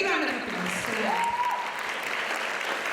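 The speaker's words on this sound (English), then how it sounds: "So he deserves a big round of applause for that." A crowd at a Rangapravesam dance debut claps steadily in a full round of applause, with voices speaking briefly over the start before the clapping carries on alone.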